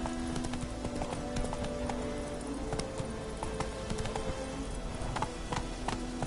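Horse hooves clip-clopping in The Witcher 3 video game, a fast, steady and dense run of hoofbeats that continues without a break, heard close and fairly full.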